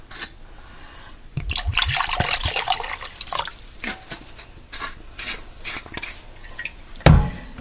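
Apple cider vinegar poured from a bottle into a pork chop marinade, a close splashing, gurgling liquid stream in uneven bursts, ending with a sharp knock.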